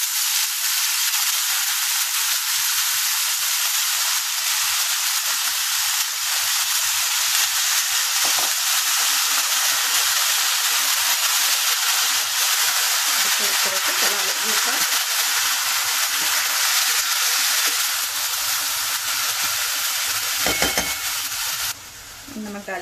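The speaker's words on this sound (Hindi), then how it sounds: "इसमें डालेंगे पालक धुली हुई।" Hot oil hisses and sizzles loudly and steadily after washed spinach is added to fried garlic, with occasional stirring scrapes and a faint voice in the background.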